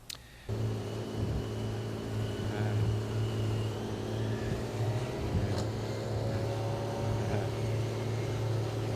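A TurboWing rotor boat accelerating, a loud steady droning engine and rotor hum starting abruptly and holding continuously, with faint rising whines and occasional thumps over nine seconds.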